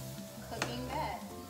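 Onion and garlic sizzle in oil in a pan for scallop risotto, a steady close crackle with a brief scrape of stirring partway through and no voices.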